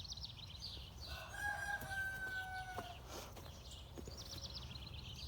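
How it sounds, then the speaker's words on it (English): Chickens in a garden crow and cluck, a rooster's drawn-out call rising in the middle with faint clucks around it, set against soft outdoor background noise. "You'll notice why you shouldn't have rogue chickens running around."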